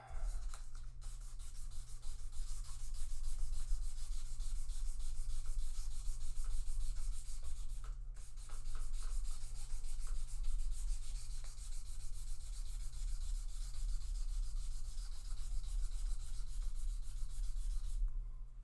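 Guitar frets are rubbed with very fine 3000 grit sandpaper in a fret dressing, a continuous rapid back-and-forth scratchy rasp close up over a low steady hum, pausing briefly twice, with no talk.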